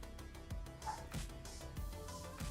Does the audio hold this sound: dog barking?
yes